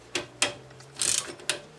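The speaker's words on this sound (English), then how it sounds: "now the top one, that I can go to the ratchet, which will be a little bit easier to work with" A ratchet working on the top bolt of a VW/Audi front brake caliper: four quick, close clicking strokes, one a longer rasping pass, sharp and distinct against quiet.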